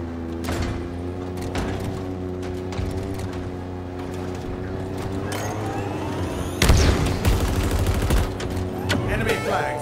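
Rapid bursts of gunfire in a Halo Infinite One Flag capture-the-flag match, steady automatic shots with a sharp louder burst partway through, under game announcer callouts.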